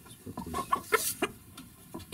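A rooster clucks softly in a henhouse at night, a few short, faint, irregular clucks close by over a quiet background.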